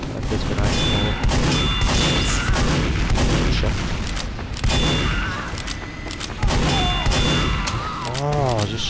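Dense, continuous gunfire and booming blasts from a Team Fortress 2 Halloween match, loud and layered throughout, with music-like tones and game effects mixed in and a falling whistle near the end.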